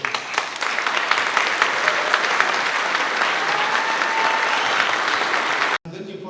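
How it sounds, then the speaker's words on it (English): Sustained applause from a gala dinner audience at an annual awards banquet, a dense steady wash of clapping that runs evenly for several seconds before cutting off abruptly near the end. "I try to invite you, all of you, to join me to give her another applause"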